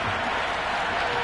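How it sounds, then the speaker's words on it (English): A cricket crowd at the WPL 2026 final between Delhi Capitals and Royal Challengers Bangalore applauds and cheers a boundary shot, a loud, dense, unbroken wash of clapping. "Will you listen to that crowd? They are loving this."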